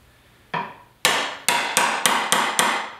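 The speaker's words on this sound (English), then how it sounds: "So what you can do is just knock it out with the chisel." A hammer taps a chisel into wood for an outdoor DIY potato growing box, with one lighter knock followed by six sharp, evenly paced strikes, close and loud with no talking.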